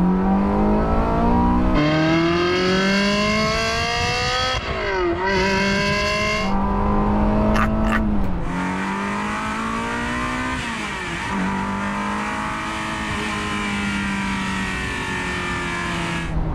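A manual Ferrari 360 Modena revs hard through the gears, its loud exhaust rising in pitch with each pull, dropping briefly at two gear changes, then climbing again, with no talk over it.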